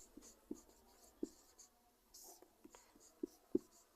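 Pen writing out a Class 9 maths answer on paper, a few sharp taps and short scratchy strokes spaced irregularly, close and quiet, with faint soft breathy voice in the background.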